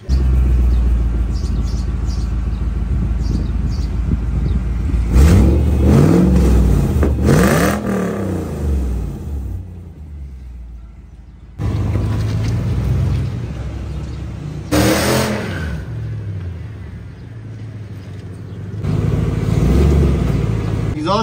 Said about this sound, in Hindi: एग्जॉस्ट की आवाज इस वक्त हमें सही तरह नहीं आ रही